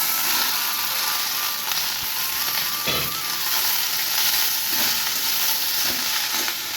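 Leaves fry in hot oil before going into a fish curry, producing a loud, continuous sizzle up close with a few soft knocks and scrapes as they are gently stirred, and no talking.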